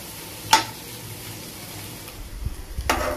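Egg frying on the stove in a capsicum curry gives a low, steady sizzle, with a couple of sharp utensil knocks and stirring scrapes near the start and end, no talking.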